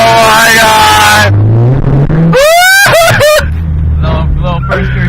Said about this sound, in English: to take the car for its last rip of all time